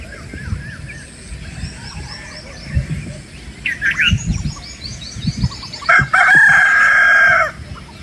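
A rooster crows loudly and close in a village at dawn, its drawn-out call rising near the end, over steady chirping and clucking of chickens and small birds.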